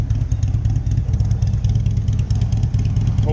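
A motorcycle engine with a Harley-like sound idles loud and close, its lumpy, pulsing rumble clattering evenly throughout.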